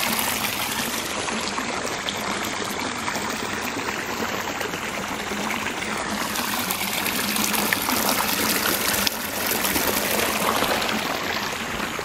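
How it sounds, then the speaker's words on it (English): Rushing water of Niagara Falls roars as a broad, constant wash of noise, loud and unbroken throughout, heard from close by with no voices over it. "don't fall in Niagara Falls. It's so nice. It's so big,"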